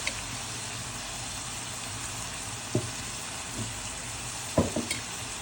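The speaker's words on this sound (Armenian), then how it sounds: "Տեսեք, լավ տապակվել է, համարյա ջուր չկա։" Gentle sizzling of minced meat filling for ishli kyufta frying in a pan, with a few sharp scrapes and clatters from stirring near the end.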